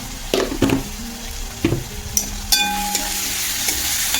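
Onion sautéing in a pan over low gas, a quiet, steady sizzle with a few spatula scrapes and knocks near the start, heard up close with nothing else.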